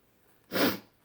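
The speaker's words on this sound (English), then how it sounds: "excuse my sniffles" A single short, breathy sniff through the nose, quiet and close, surrounded by near silence.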